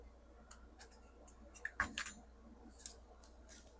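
Scissors snip a small edge off a foam-and-glue craft piece for a brunch gift, giving a few sparse, soft close-up clicks and one sharper cut midway in a quiet room.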